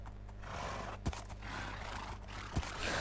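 Horses spawned in large numbers in Minecraft, with a steady low hum and noisy wash of game sound, short whinny-like calls and two sharp bursts standing out over the constant din.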